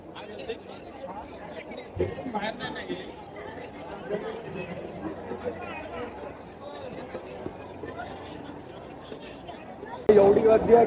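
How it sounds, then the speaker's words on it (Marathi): Continuous hubbub of a large crowd at a temple in Shegaon, many people talking at once in a steady murmur, with a sudden louder, closer surge of voices in the final second. "एवढी गर्दी आहे की बम सांगूच नाही शकत."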